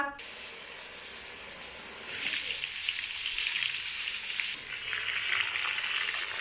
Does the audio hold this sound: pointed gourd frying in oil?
yes